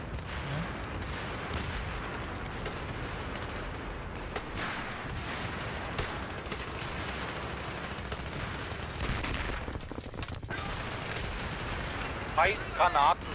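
Grenade explosions and gunfire in the Battlefield 3 video game crackle and thump continuously, dense bursts of shots and booms with a few louder blasts near the end, people talking underneath.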